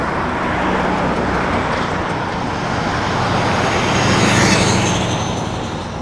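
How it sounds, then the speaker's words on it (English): A few more cars roll past a cyclist in city traffic, a continuous broad roadway roar that builds to a nearer pass toward the end, with no talking. "A few more cars."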